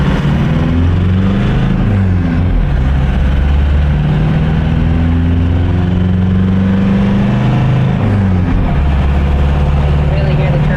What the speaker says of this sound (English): and you want to hear that turbo spooling.